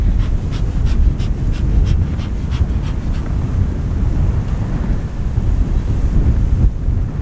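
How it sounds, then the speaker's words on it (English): Strong gusting wind roars across the microphone at an outdoor beehive site, a constant heavy rumble with a few faint ticking sounds early on. "Wow, it's windy."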